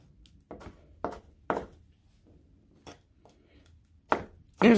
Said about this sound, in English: I'm going to finish chopping these here.